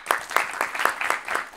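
Audience at a live stand-up comedy show clapping in a short burst, sharp regular claps close by, no voices.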